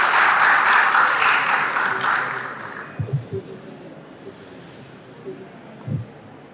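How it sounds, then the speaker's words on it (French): Audience applause at the closing ceremony of a scientific conference at a medical faculty, a broad wash of clapping that is loud at first and fades out after about two seconds, followed by a few faint thumps and brief voices. "nous vous demandons encore une fois d'applaudir"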